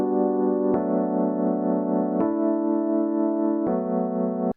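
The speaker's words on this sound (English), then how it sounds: "with our mini piano, we're going to play 4 chords" A mini piano plays a run of sustained chords, each one held a second or more before the next strikes, with bright, organ-like tones that sound close and steady and no voices.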